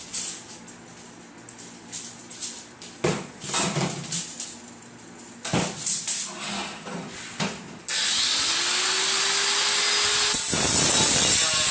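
A power saw cuts through 8-foot metal sticks in a few short bursts, then a longer loud continuous cut with a rising whine, close up.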